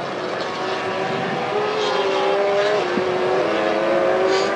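A MotoGP bike screams through Circuit of the Americas on a qualifying lap, its loud engine note sustained and rising through gear changes, close and continuous with no voices over it.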